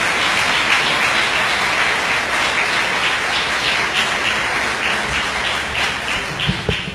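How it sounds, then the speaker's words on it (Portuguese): A dense, sustained round of applause from an audience at an evening plenary session of a theological week, loud and continuous and fading slightly near the end. "Eu quero que você possa saudá-lo com uma salva de palmas"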